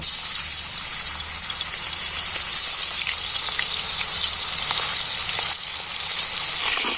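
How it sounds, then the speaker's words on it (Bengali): Fish frying in hot oil in a wok (kadai), a steady broadband sizzle and crackle running continuously throughout without speech. "এবার মাছটাকে ভেজে নেব।"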